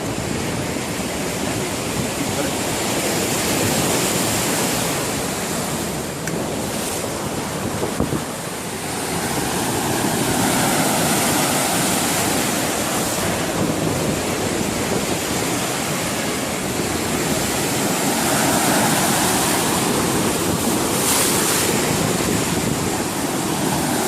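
Sea waves at a beach in Alexandria, Egypt, rush in a steady, continuous wash of surf with wind buffeting the microphone throughout and no voices.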